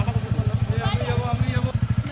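A motorcycle carrying three riders putters close by with a steady, rapid thumping engine beat, while people talk over the engine.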